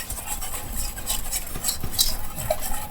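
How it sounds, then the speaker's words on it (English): Ingredients are whisked in a bowl, giving rapid rhythmic scraping and light metallic clinks close up with no talking. "go ahead and start whisking that up"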